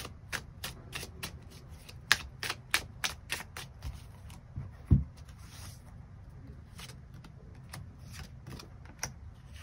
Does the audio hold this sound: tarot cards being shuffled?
yes